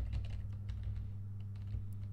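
Computer keyboard being typed on during a fractal-rendering session, with a quick run of soft, irregular key clicks over a steady low electrical hum.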